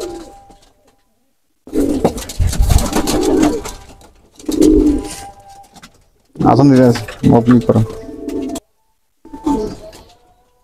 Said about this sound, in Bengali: এটা হচ্ছে ফিল্ডব্যাক কবুতর, মাশাআল্লাহ।